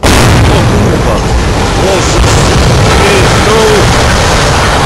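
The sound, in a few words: small explosion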